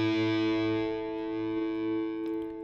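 A sustained electric guitar chord heavily processed with distortion and reverb, ringing with a thick harmonic tone that slowly decays, alone and close with no talking.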